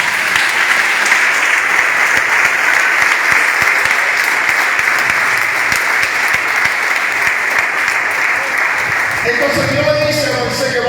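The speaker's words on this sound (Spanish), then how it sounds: "Dale un aplauso al Señor." A church congregation applauds the Lord during a sermon, a sustained dense clapping that fills the room, with a voice cutting in as it winds down at the end.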